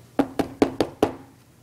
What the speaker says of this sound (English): knocks on the door